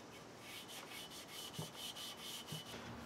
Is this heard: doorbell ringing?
no